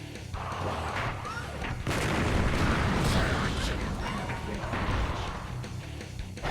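A tank fires in the Eye of Judgment card game: a loud, booming blast swells about two seconds in and rumbles on for several seconds, with someone talking over it.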